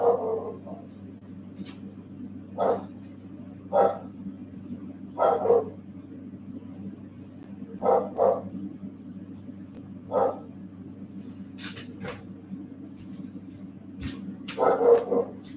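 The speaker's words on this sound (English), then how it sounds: "So excuse the barking." An agitated dog barks in short, sharp bursts at irregular intervals indoors over a low steady hum. Some barks come singly and some in quick pairs, fairly close and moderately loud.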